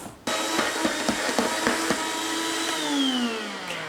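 A blender whirs loudly while blending a sticky caramel slice mixture through dull blades, starting abruptly with a steady motor drone, rhythmic knocking as the thick mix catches, and a pitch that drops toward the end.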